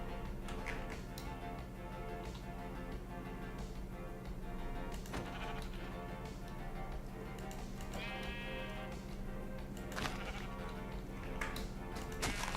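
Sheep bleating in Minecraft with the Create mod, several wavering bleats over steady game background sound and soft clicking, fairly quiet and without talk.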